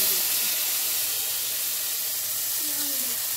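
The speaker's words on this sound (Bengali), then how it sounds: "এবার ওখানে শুকনো লঙ্কা, তেজপাতা দিয়ে দিয়েছি" Dried red chillies and bay leaves hit hot oil in a pan, giving a loud, continuous frying hiss that fades slightly over a few seconds.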